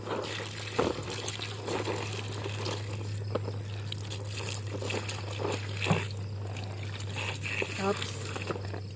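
Running water trickles and splashes as freshly harvested vegetables are washed before cooking sinigang na hipon, a steady close flow under a constant low hum, with a few knocks and splashes of handling.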